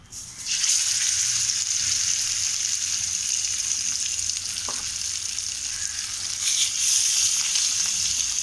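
Fish sizzles steadily in hot oil in a pan for Andhra-style chepala pulusu, a loud, continuous crackling hiss that fills the whole stretch with a brief clink partway through.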